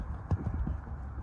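Hooves of a stout, heavy horse clip-clop on a road, a few close, firm steps in quick succession against light background noise.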